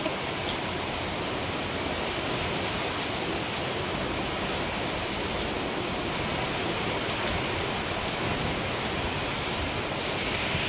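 Rain showers fall in cool, wet weather, a constant dense hiss that stays loud and even throughout, with no voices.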